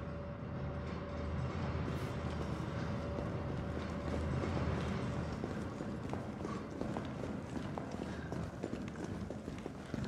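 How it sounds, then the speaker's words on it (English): Subway train rumbling in the Resident Evil 3 Remake game, a steady rolling rattle with faint clicking track noise throughout, no voices heard. "The subway's about to leave."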